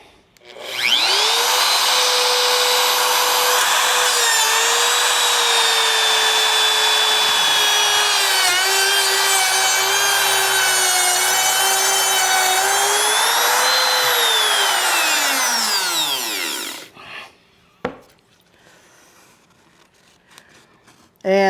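A Bosch Colt router in a plunge base cuts a quarter-inch dado in wood with a loud, steady high-pitched whine that holds for about fifteen seconds, then spins down and stops, leaving a few faint knocks.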